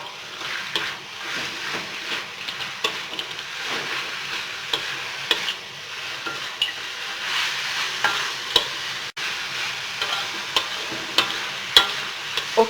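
Torch ginger flower sambal is stirred together with fried anchovies in a pan, giving a soft continuous sizzle broken by repeated scraping and clicking strokes of the spatula, heard close with no talking.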